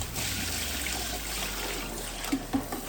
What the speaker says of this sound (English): rinse the noodles well with running cold water